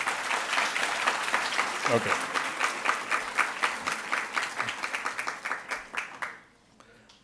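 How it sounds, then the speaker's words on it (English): Audience applause at a community meeting, sustained clapping from a crowd that thins into separate claps before fading out near the end, with a brief spoken word amid it. "Let's give a big round of applause."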